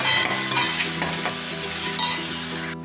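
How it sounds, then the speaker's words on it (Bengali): Small fish frying in a pan with salt and turmeric, a loud, dense, continuous sizzle under brisk stirring scrapes, close up and without voices. "এবার আমি পরিমাণ মতো হলুদটাও আমি দিয়ে দেবো একটু নাড়াচাড়া করে"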